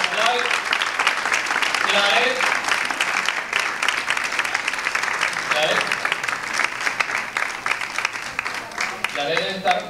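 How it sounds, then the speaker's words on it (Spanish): A crowd gives sustained, lively applause for a newly introduced franchise coordinator at a coaching event, the clapping dense and close, with brief voices and cheers rising through it. "Un aplauso para Zulay"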